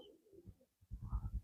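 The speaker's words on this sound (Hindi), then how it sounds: "कबूतर वगैरह अंदर में रह रहे हैं।" Pigeons coo inside an old, dried-up stepwell: a soft, low, throaty cooing, faint at first, then a fuller burst of several rolling coos close by.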